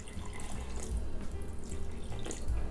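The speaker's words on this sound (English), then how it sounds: "2 big splashes of pickle juice." Pickle juice poured in two big splashes into a bowl of chickpea tuna salad ingredients, a close, wet liquid pour with a brief burst near the end.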